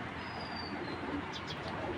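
An imported racing pigeon gives a few soft, low coos, heard faintly over a steady background hum, with a couple of brief chirps near the end.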